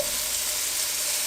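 Butternut squash sizzles as it hits a pan of sautéed onions and garlic, giving a steady, close frying hiss with no talk.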